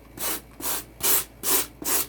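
Styrofoam is sanded by hand in five quick, even back-and-forth strokes, each a soft, hissing rasp close up, with brief pauses between.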